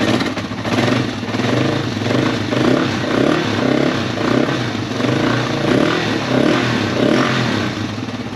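The single-cylinder engine of a Yamaha XT225 dual sport motorcycle revs up close by with a loud, steady rumble and rhythmic pulsing throughout, with no talk over it.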